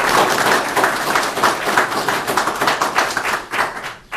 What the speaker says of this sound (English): I would like to offer a big round of applause for this accomplishment this morning